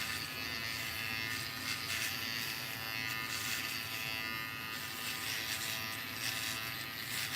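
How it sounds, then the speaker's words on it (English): Electric clippers buzz continuously and close up while shaving a head, a steady high whine with slight fluctuations as they move across the scalp, no talking. "Nobody's good at shaving heads,"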